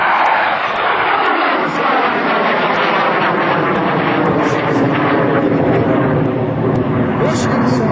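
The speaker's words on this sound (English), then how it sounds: "And Shipley, flying the other F-86" An F-86 Sabre jet roars loudly and steadily overhead at an airshow, a sustained broadband jet engine rush that fills the whole clip, with a low rumble fading early on.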